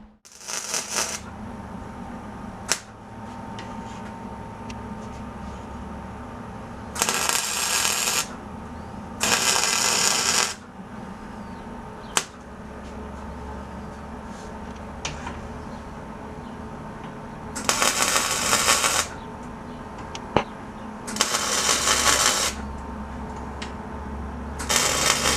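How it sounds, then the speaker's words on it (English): A steel front bumper is tack welded to its top plate in short bursts of harsh, crackling sizzle, spaced apart over a steady low background hum, each tack lasting a second or two. "go ahead and tack the bumper to the top plate"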